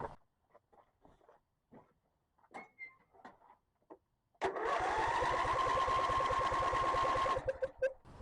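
A riding lawn mower's engine cranks over on its starter during a fuel pump test: a few quiet handling clicks, then about three seconds of loud, steady, rapid mechanical chugging close by that stops abruptly.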